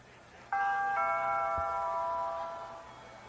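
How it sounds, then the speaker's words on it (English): A doorbell rings once nearby, a two-tone ding-dong chime that sustains and slowly fades in a quiet room. "I'll just ring the doorbell."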